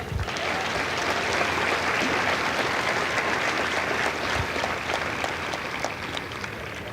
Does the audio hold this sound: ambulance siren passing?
no